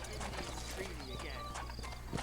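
Horse hooves clip-clop along in Red Dead Redemption, a steady trotting patter partly buried beneath game voices and a background bed of sound.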